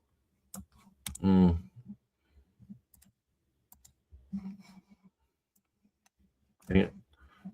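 A computer mouse that isn't working well gives a few soft, scattered clicks while someone talks over trading chart software.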